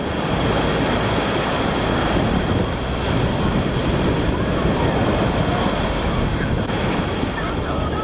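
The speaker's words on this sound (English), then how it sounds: "Waves here are pretty big." Constant roaring surf of large waves breaking on a Cabot Trail beach in Canada, broadband and loud, with wind buffeting the microphone throughout.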